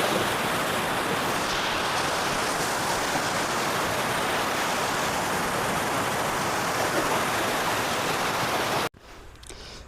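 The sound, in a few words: water rushing at a dam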